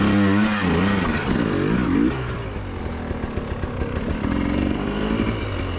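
An enduro motorcycle revs hard with a warbling rise and fall, then settles into a rough, loud, steady engine drone, close by.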